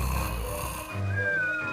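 A voice imitates loud snoring, rough and nasal, with a rasping drawn breath and a higher whistling tone near the end.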